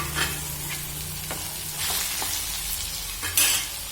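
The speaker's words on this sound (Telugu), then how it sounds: "టమాటా ఇలా వేగిన తర్వాత ఇప్పుడు పకోడీ వేసాను." Pakoda pieces sizzle in a pan with fried tomatoes, a steady frying hiss broken by several scraping stirs of a spoon.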